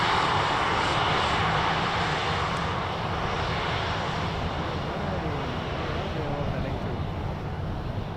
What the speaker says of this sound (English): That is Dash 8.